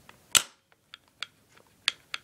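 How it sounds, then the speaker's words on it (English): Spider Vector CO2-powered blaster firing several sharp, snappy pops at an uneven pace, with one loud shot first followed by softer cracks spaced across a couple of seconds. "You'd be able to keep on shooting with the CO2 in because it's pressured."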